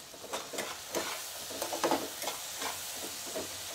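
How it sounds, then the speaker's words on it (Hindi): Spoon stirring ground spice paste with salt in a hot frying pan while making potato and soya chunk curry, a steady quiet sizzle broken by soft scraping strokes about every half second, close and alone. "मैंने मसाले को अच्छे से पीस लिया है और एक बार इसको अच्छे से चला लेते हैं"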